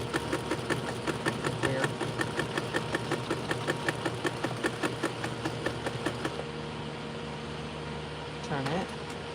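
A sewing machine stitching a denim jean jacket runs in a fast, even mechanical chatter for about six seconds, then stops; a voice speaks briefly near the end.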